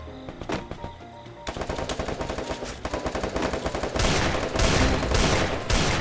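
Automatic weapon fire in the Free Fire battle royale game: loud, rapid bursts of close shots that build into a dense, continuous volley, with no talking over it.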